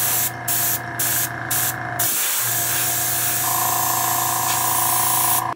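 Tamiya black spray paint hisses from a can onto vinyl cabling: four short bursts in a steady rhythm, then one long continuous spray, close and loud over a steady hum, with no voices.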